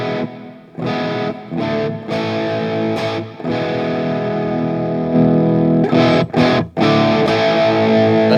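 Distorted electric guitar through a Fender Tone Master Pro plays chunky chords with short breaks between them, the notes washed in a spacious reverb tail.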